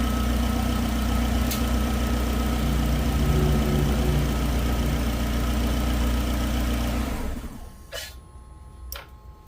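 A car engine idles steadily with a low, even drone, then abruptly shuts off near the end, leaving near silence with a couple of faint clicks.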